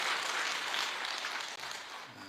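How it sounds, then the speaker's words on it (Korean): Congregation at a Korean church dawn prayer service applauding, a steady dense wash of clapping held for a couple of seconds at moderate distance, with no voices over it. "박수 한번 해주시고"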